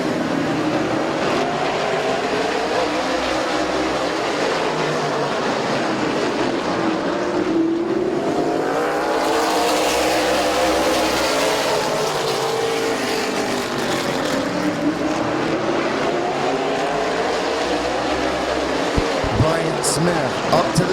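Race cars at Midvale Speedway lapping the oval, a continuous loud engine drone with pitches rising and falling as cars pass, overlaid by a race announcer calling the action throughout.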